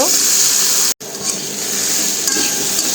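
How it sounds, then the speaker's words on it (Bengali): Potato pieces fry in hot oil in a pan for a Bengali potato and tomato curry, with a loud, close, continuous sizzle that cuts out for an instant and then resumes. "আলুগুলো সুন্দর করে ভেজে নেব।"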